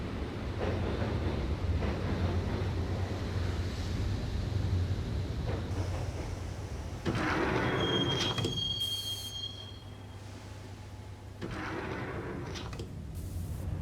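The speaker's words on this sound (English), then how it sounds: "the train doors had already shut behind me, and I was in for the ride" A subway train in the Max Payne video game rumbles steadily along the track, then its wheels squeal loudly and a sliding door hisses shut, followed by quieter running and another squeal.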